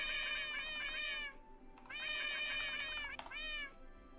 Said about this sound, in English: You can't hear the meow keyboard?